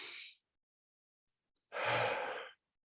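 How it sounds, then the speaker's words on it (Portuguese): A deep breath drawn in a quiet room: a short exhale, then a longer, louder breath lasting nearly a second, close and alone with no talk. "toma uma respiração bem profunda agora"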